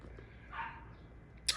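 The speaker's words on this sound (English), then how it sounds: "Excuse the barking in the background." A dog barks faintly in the background of a quiet room, one muffled bark followed by a short sharp yip, distant and alone.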